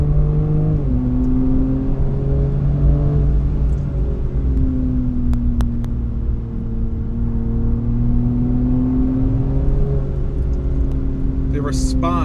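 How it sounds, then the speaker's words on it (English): A 2021 Jaguar F-Pace R-Dynamic S P400 with a turbocharged and supercharged straight-six engine accelerates, with a loud, continuous engine drone whose pitch rises and settles in steps as it pulls, heard from inside the car. "You get the whine of the supercharger and you get the whoosh of the turbocharger."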